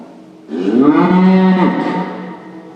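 A single cow gives one long, loud, close moo lasting about two seconds, rising in strength and then tapering off, with no other voices around.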